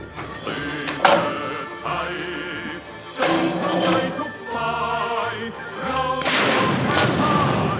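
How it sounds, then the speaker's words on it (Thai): Several booming blasts from a 130-year-old naval cannon ring out one after another at a commemoration, each a heavy thud with a lingering rumble, heard over crowd noise and music. "การยิงปืนเสือหมอบที่กองทัพเรือดูแลรักษา"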